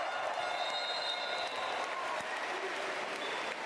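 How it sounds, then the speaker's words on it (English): Steady, loud applause from a large arena crowd at a FIBA EuroBasket qualifier basketball game between Bulgaria and Latvia fills the whole stretch evenly as a player heads to the bench. "D-Boss quite rightly gets a huge round of applause as he heads to the bench."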